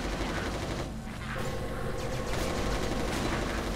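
Rapid automatic gunfire in the video game Resistance Retribution, loud and continuous bursts of shots with a brief lull before firing resumes, dense and close throughout.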